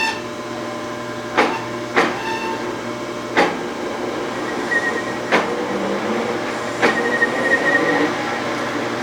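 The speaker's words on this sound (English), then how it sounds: "Just gonna jog our lathe." Metal lathe being jogged in short bursts while turning a replacement shaft for a farm implement, giving a steady machine hum broken by several sharp clanks and knocks spaced a second or two apart.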